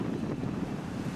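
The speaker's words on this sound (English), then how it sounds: "We've got probably about a 20-knot wind going here." Wind at about 20 knots blows across a sailboat at sea, a steady low roaring rush of buffeting air against the microphone, constant and fairly loud throughout the brief moment, with no voices.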